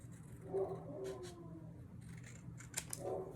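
Scissors trimming the edge of a paper lunch bag, a few quiet close snips and crisp paper rustles spread across a short, hushed moment.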